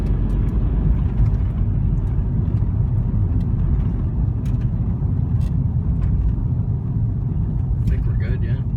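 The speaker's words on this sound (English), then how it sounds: "Let's get this up in speed a little bit." A Ford Escape, just fitted with a new wheel bearing and knuckle, driving on the road at around 50 to 60, with a steady, loud low road and engine rumble heard from inside the cabin, and people talking over it.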